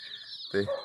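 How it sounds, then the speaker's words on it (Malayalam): A chicken gives a short, close cluck after a faint high bird call, brief and alone. "കുറച്ച് കുറച്ച് മാത്രം കളറുള്ള കോഴി ഇതന്നെ കോഴിയത്"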